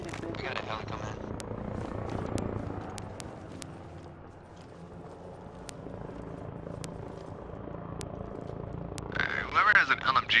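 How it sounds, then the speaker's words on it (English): A helicopter approaching in a video game, a continuous rotor thrum with low rumble and scattered sharp clicks, rising a little toward the end, while people talk over it. "We got a heli coming in."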